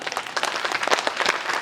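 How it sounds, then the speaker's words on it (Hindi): Audience at a Hindi poetry gathering (kavi sammelan) clapping with hands raised, dense lively applause with distinct individual claps, fairly close and continuous. "एक बार जितने भी लोग यहाँ बैठे हैं वो सब दोनों हाथ ऊपर उठा के ताली बजा।"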